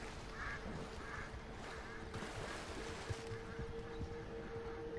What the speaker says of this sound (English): More ducks in the water.